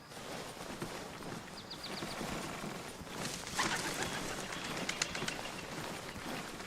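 Birds flutter and chirp in the open countryside of the military shooter Arma Reforger, a brief flurry of wingbeats and calls over steady outdoor ambience, with scattered footstep-like crunches and no talking.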